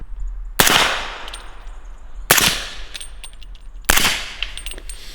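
Three sharp shots from a suppressed 300 Blackout rifle, evenly spaced about every second and a half, each a loud crack with a short ringing tail and faint metallic clinks between.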